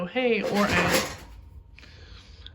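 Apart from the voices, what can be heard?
cat knocking over a box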